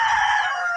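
A rooster crows loudly and steadily for under a second, a sustained bright call close to the listener with no talking.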